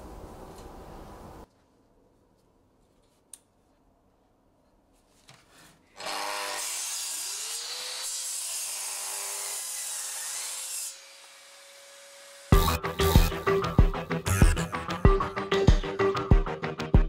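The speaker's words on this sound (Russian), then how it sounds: "Поставили упорчик и по этому упору все бжик-бжик отпилили" Several stretches of workshop noise: a rasping, scraping handsaw cut through oak for table legs, then denser rhythmic back-and-forth sawing strokes near the end, with quiet gaps between.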